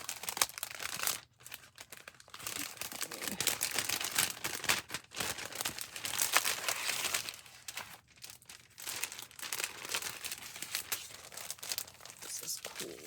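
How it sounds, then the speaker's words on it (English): A crinkly plastic envelope is wrestled open, with bursts of loud crinkling and tearing broken by brief pauses, close up. "Always a challenge for me to figure out how to open these plastic envelopes."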